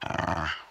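A small dog gives a short, close growl indoors, a low rumbling snarl lasting under a second that tapers off at the end.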